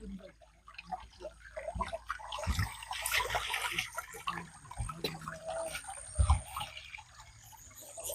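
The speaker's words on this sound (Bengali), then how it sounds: "দেখেন পানির একটা শব্দ।" Water rushing through a spot in the Saudi Arabian desert at night, a steady trickling wash with intermittent low thumps and handling noise, with voices talking over it.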